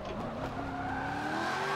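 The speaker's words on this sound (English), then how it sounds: "I can hear the crackles creeping through this exhaust on this F-Type." Jaguar F-Type engine and exhaust in the racing game Forza 7, a continuous close drone of the engine with tire squeal and rising pitch under throttle, loud and steady over a short stretch with no speech.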